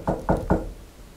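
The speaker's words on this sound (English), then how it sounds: "Can you knock on something like this?" Three sharp knocks strike a hard surface in a quiet house interior, evenly spaced about a quarter second apart, fairly close and alone with no talk.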